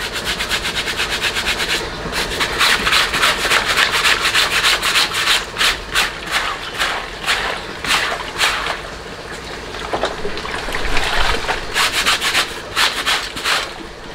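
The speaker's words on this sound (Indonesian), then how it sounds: "Gosok juga bagian pengaman atau penyangkut penyangga si tas ini, guys. Kita gosok seperti ini." Stiff brush scrubbing a backpack's plastic buckle and strap parts during washing, a steady rasping rub repeated in quick rhythmic strokes, close and fairly loud with no voices.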